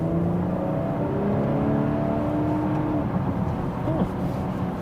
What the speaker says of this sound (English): And now, some highway driving.